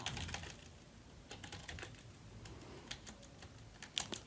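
Code is typed on a computer keyboard while a dashboard form is being built, giving quiet, close key clicks in short irregular runs with brief pauses and a sharper cluster near the end.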